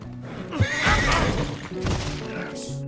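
A horse in Red Dead Redemption 2, set in 1899, whinnies loudly and up close in a long wavering neigh, with faint hoof clatter beneath and no talking.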